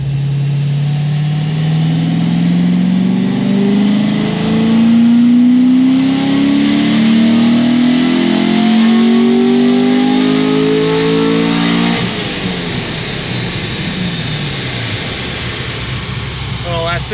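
Naturally aspirated Corvette C6 Z06 with a stage 4 setup making about 650 rear-wheel horsepower on a dyno: a loud, sustained engine pull climbing steadily in pitch for about twelve seconds, then cutting off and winding down, with voices in the background.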